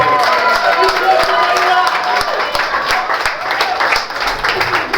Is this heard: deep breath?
no